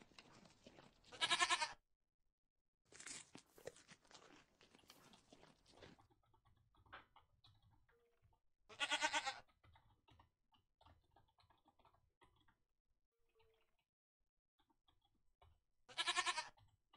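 A Minecraft goat gives three loud, separate bleats spaced several seconds apart, standing out over quiet game sounds and faint clicking, with no voices in between.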